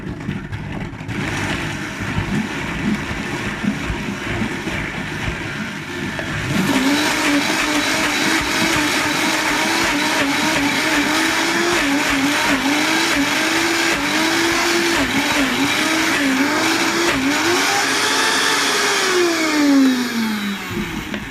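A blender whirs through muhammera, first a rough lower churn, then jumping to a louder, higher steady whine as the speed rises, with pitch wavering as the mixture shifts and thickens, running alone without talk.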